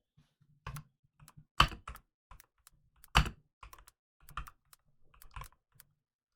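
Typing on a computer keyboard nearby: scattered, irregular keystrokes in small clusters, with a few heavier presses standing out, in an otherwise quiet room.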